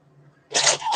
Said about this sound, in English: She's having backward sneezes when she gets excited.